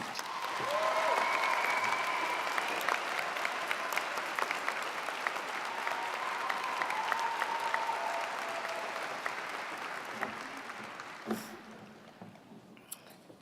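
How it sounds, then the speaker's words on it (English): Audience at a 149th commencement ceremony applauding a prize recipient, a sustained broad wash of clapping that holds steady for about ten seconds before tapering off, with faint scattered voices underneath. "Please give her a round of applause."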